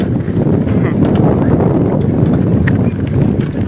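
Strong storm wind blows across open country, a loud, continuous roar that buffets the microphone with heavy low rumble and gusting hiss, steady for the whole stretch.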